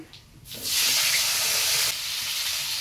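Potatoes drop into a pan of frying ribbonfish in mustard oil with nigella seeds. After a quiet start, a loud, close sizzle bursts up and holds steady, then eases slightly near the end.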